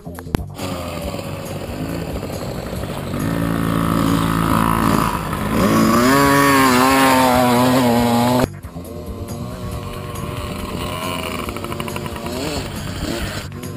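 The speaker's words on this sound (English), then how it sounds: "Fun riding a motorbike." A motorbike being ridden, its engine droning and then whining higher as it revs in the middle before abruptly dropping back to a lower, steadier hum.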